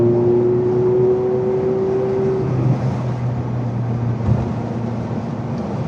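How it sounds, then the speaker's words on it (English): Steady rushing wind buffets a 2007 Ferrari F430 Spider driving with its top down on a very windy day, a continuous broadband roar with a faint engine drone underneath and no talking. "It's very, very windy, so you're going to hear a little bit of wind noise."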